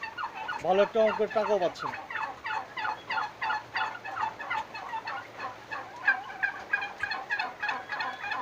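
Turkeys on a farm gobble repeatedly in quick rattling bursts, close and loud, with one long wavering call near the start; someone speaks briefly at the beginning.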